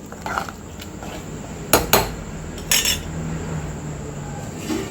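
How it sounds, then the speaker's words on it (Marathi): A spoon scrapes and clinks against a cooking pot as Khandeshi masala dal khichdi with coriander is stirred, a few distinct metallic knocks rising over a quiet background. "आणि एकदा परत हलवून घ्यायचं"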